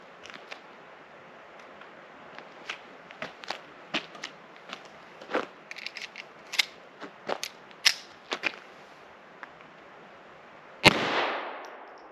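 A 1989 vintage Ruger Mark II semi-auto pistol firing CCI Mini Mag 40-grain copper-plated .22 LR rounds, a string of about twenty sharp, quick cracks at an uneven pace, somewhat distant, ending in a louder closer report.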